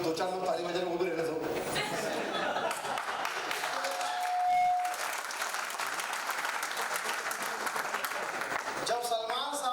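A few people clap at a press conference for a film launch, with scattered, steady applause running throughout under someone speaking loudly into a microphone.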